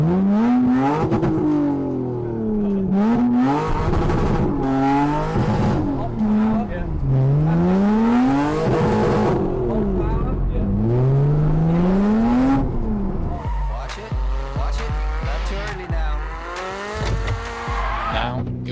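A car drifts through a figure of eight, its engine revving up and down in repeated swells while tires squeal loudly and continuously, close and intense, with talk heard faintly at times.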